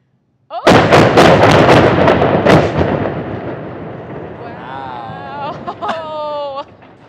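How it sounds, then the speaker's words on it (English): Explosive demolition of the old I-74 bridge in the Quad Cities: a rapid string of sharp, loud charge blasts merging into a rolling boom, then fading rumble as distant crowd cheering and whistles rise. "Everyone loves an explosion."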